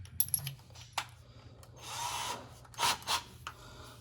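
Power drill enlarging a hole in car floor metal during a shifter and cable installation, short bursts of whirring and grinding with clicks and handling noise between them, fairly quiet and close, no speech.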